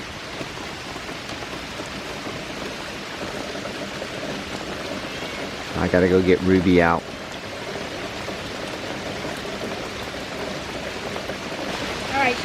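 Steady morning rain falls outside, a constant patter and hiss filling the background, while a person speaks briefly partway through.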